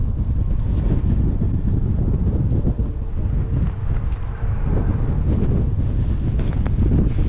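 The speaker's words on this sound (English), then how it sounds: "Honestly, it's so windy." Strong, steady wind buffets the microphone outdoors at a track day beside a 1995 Chevy Caprice, a loud continuous low roar with rumbling gusts throughout and no speech.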